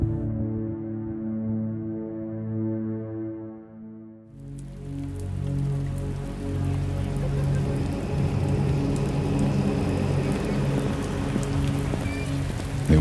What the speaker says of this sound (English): It was raining again.